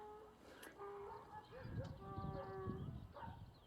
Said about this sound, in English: Excuse the donkey in the background,